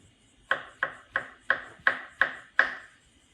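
A knife chops fresh parsley greens on a board in a home kitchen, landing seven crisp, evenly spaced strikes about a third of a second apart, close and clear against a quiet room.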